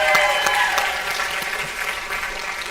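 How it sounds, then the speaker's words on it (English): A pageant audience at a community friendship festival applauds in a round of clapping. The claps are moderately loud and fairly close, starting strong and easing off slightly. "Let's give a round of applause to all of the little misses"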